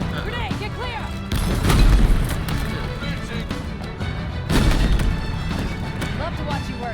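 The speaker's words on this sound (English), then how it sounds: "Grenade, get clear!" Grenade blasts in Halo Infinite combat, two heavy booming explosions about three seconds apart amid gunfire and battle chatter, loud and close.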